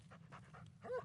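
A dog pants in the Blair Witch video game, quick soft breaths repeating at an even pace, fairly faint and close, with a brief whine or yip at the end.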